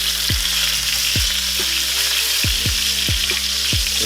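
Duck breasts sear in a hot pan after being flipped, a steady loud sizzle and crackle with repeated low thumps and scrapes as the pieces are moved about.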